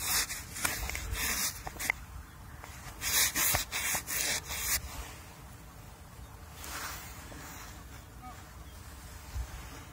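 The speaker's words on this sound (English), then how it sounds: "Come on, let's give that a rub down." An engraved lead metal-detecting find from Essex is rubbed clean by hand, making quick, gritty scrubbing strokes close up that come in bursts, then soften into quieter rubbing.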